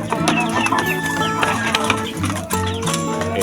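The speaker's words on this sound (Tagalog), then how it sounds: "Ito din yung aking asil mga kamanok" Asil chickens clucking busily close by, with overlapping short clucks and calls from several birds in a pen, loud and continuous throughout.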